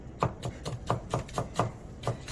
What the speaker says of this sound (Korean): 양송이, 양파, 이제 칼질할 게 이건데요.